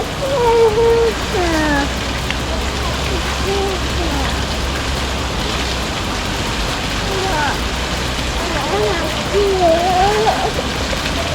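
Steady rain patters over the outdoor thermal pools of the Santa Rosa de Cabal hot springs in Colombia, a continuous close hiss with faint voices and other sounds rising over it.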